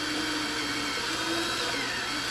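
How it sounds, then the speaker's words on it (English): A power drill runs steadily and loudly with no pauses, drilling out the head of a rivet while installing the front bumper cover on a Mercedes W140. "if you drill the head out, the whole back end of the rivet should pop out"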